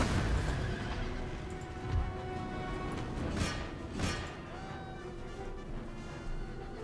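In an Empire Total War battle, cavalry horses neigh and whinny over a busy backdrop of thuds, distant booms and gunfire, several calls rising through the din.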